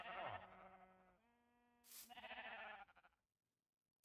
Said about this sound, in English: here we are, in the sheep farm, which you could probably hear from all the noise